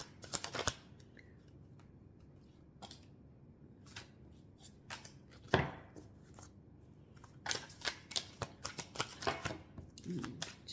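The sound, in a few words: shuffling tarot cards, cards falling out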